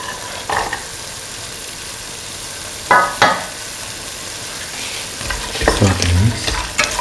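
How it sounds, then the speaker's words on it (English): Chickpea pieces go into a potato and coconut milk stew in a pan, bringing soft sizzling under a low steady hiss with a few sharp clatters and utensil scrapes near the middle and end. "Now put in the chickpea pieces."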